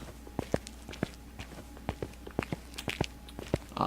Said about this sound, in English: you should be able to hear footsteps when I walk